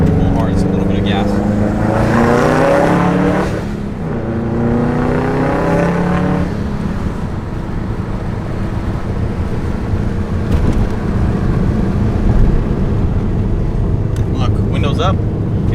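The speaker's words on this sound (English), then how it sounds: "Let's see if we can get a little mini pull. I don't want to pull hard, just a little bit of gas." A 2005 Subaru Impreza WRX STi with a louder, lowered exhaust setup accelerates gently from inside the cabin. A rising, throaty exhaust note is heard for several seconds, then fades into steady road and wind noise.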